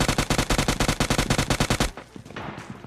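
Loud rapid automatic gunfire in a mobile shooter game rattles off in a steady burst of about twenty shots, then cuts to quieter game ambience with a scattered muffled rumble.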